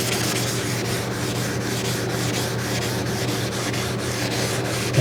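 Car paint is sanded smooth with steady, rhythmic abrasive rubbing strokes, close and continuous with no talk.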